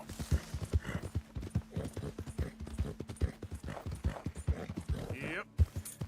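Horse hooves clip-clop in a quick, steady rhythm during a ride in Red Dead Redemption 2, close and clear, with a short whinny-like sound near the end and no speech over it.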